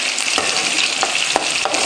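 Mustard seeds frying in hot oil for a Tamil-style fish curry, a steady close sizzle with scattered sharp pops and crackles throughout, no voices.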